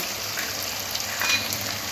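Spices hitting browned onion and tomato in a pan for Bengali-style kosha chicken curry, with a steady, close, dense sizzle and no talking.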